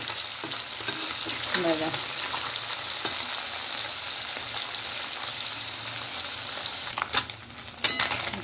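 Small fish frying crisp in a pan for a palak fish fry gravy, a steady close sizzle with occasional clinks and stirring scrapes, a brief word spoken near the end.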